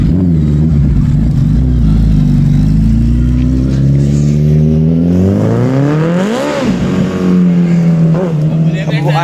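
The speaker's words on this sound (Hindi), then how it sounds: "तो सैम भाई व्हीली मारने वाले हैं अभी, आइए।" A superbike engine, with a Duke 390 and Hayabusa on hand at a Sunday ride, revs loudly and steadily with rising and falling pitch sweeps as it builds for a wheelie, while someone talks over it throughout.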